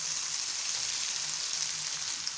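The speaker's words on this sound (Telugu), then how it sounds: "ఇప్పుడు ఇది ఆయిల్లో వేసుకుని డీప్ ఫ్రై చేసుకోండి" Potato fries deep frying in hot oil, giving a dense, steady sizzle that stays even and close throughout with no voices.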